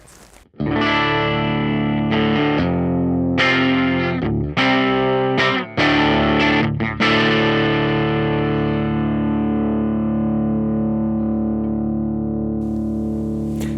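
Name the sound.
electric guitar through headphone amp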